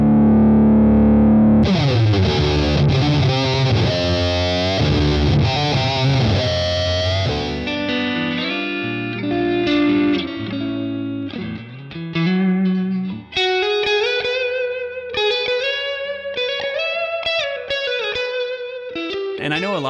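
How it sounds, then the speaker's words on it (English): A homemade electric guitar with a concrete body, played loud through heavy distortion with chorus-like effects, sustained chords giving way to brighter single-note lines. "trying the concrete guitar out for the first time"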